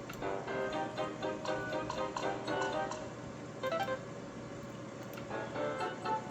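An Airplane slot machine plays its bonus build-up sound, a rapid ticking, chiming electronic loop that rises in bursts, heard close and moderately loud with no talk.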